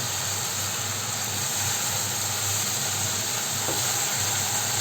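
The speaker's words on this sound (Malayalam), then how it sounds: "വറുത്ത് മാറ്റി വെച്ചിരിക്കുന്ന ഓട്സ് ഉണ്ടല്ലോ അത് ഇതിലേക്ക് ചേർത്ത് കൊടുക്കാം നന്നായിട്ടൊന്ന് ഇളക്കി യോജിപ്പിക്കാം" Roasted oats are stirred into a hot pan, giving a steady, close sizzle and hiss with faint scraping throughout.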